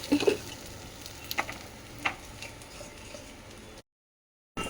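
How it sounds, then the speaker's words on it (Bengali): Soft sizzling of cauliflower and vegetable stalks frying with poppy seeds in a pan, with occasional light clicks and taps of a utensil, fairly quiet, then silence. "আমি পোস্ত দিয়ে এইগুলো মিক্স ভাজা করছি"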